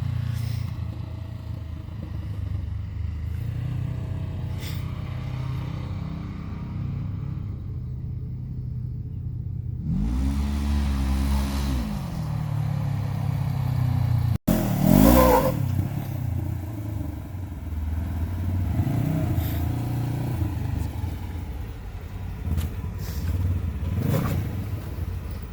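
A Polaris General UTV with a tuned clutch and ECU accelerates in high range, its engine rumbling steadily then climbing in pitch as it revs, followed by a sharp surge of louder engine noise.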